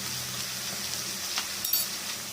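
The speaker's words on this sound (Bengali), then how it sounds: "এটাকে কষিয়ে নেব।" Ginger, garlic, chilli powder and turmeric sautéing in a pan with a splash of water for a Bengali fish curry, giving a steady soft sizzle with a few faint clinks of a spoon.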